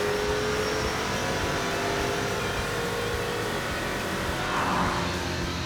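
A muscle truck launches off the line in a drag race, its engine roaring loud and steady for several seconds with a rough, droning tone that stays strong throughout.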